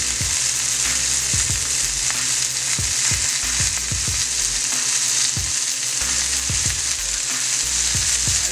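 Italian sausages sear on a hot griddle with a loud, steady sizzle, punctuated by low knocks and scrapes as they are turned, and no talking.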